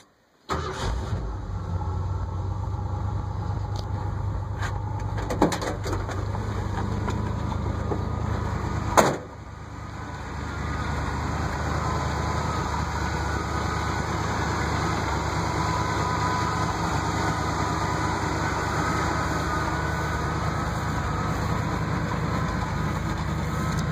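A 1975 Ford pickup with a blown-out muffler starts up and settles into a loud, rough, steady idle with a deep rumbling exhaust, a brief rev spike around the ninth second, and no talk.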